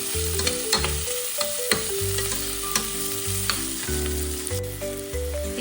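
Chopped ginger and garlic sautéing with onions in a pan for a prawn and drumstick curry, giving a steady close sizzle with repeated stirring scrapes throughout.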